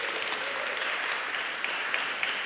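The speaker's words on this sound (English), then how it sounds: "Applause for the dads." A church congregation applauds the fathers, a steady, full wash of clapping from a large crowd with a few sharper claps standing out near the end.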